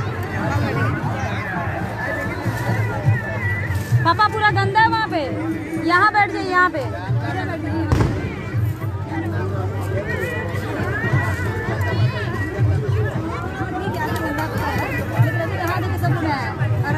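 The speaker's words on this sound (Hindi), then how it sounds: "ये देखिए भीड़ कितनी है।" A dense crowd of worshippers murmurs and chatters at a riverside ghat on the last day of Chhath puja, a steady close hubbub of many voices, with people nearby talking to each other over it.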